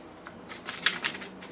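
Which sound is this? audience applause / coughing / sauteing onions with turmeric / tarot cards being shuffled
tarot cards being shuffled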